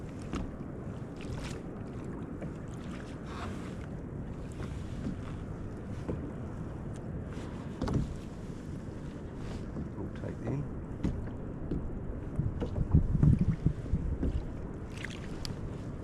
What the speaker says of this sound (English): I really need to keep paddling.